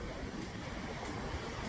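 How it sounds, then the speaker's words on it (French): Wind gusting across the shore at La Turballe during a fishing outing, a faint, steady rush of air mixed with distant surf, with no voices. "Il y a du vent."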